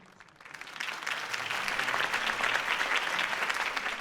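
Crowd applause in the Batman Telltale video game, a campaign rally for Harvey Dent in Gotham, swelling from quiet to a steady, dense roar of many hands clapping that holds for several seconds.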